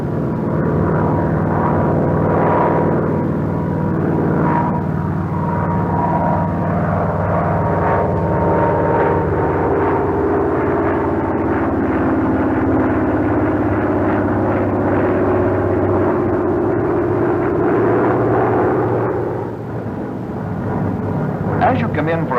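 Grumman F6F Hellcat fighter flying an Immelmann at 200 knots, a loud steady piston-engine drone with a rising and falling pitch sweep throughout, with a narrator talking over it.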